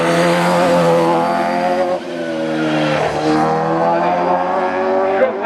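A Renault 5 Turbo 2 race car at a national hill climb event, its engine held loud and close at sustained high revs with a steady harmonic drone, dipping briefly and surging again as it accelerates up the course.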